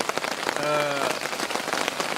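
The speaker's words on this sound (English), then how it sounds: "we've been having this rain for almost an hour now" Rain pours steadily onto a tropical jungle camp, a dense, close patter of drops hitting surfaces that continues without a break, with a brief faint tonal sound partway through.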